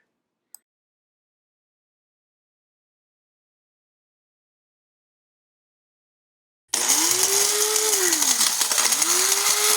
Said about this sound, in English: And grind all the bay leaves and the curry leaves and the fennel seeds and the coriander seeds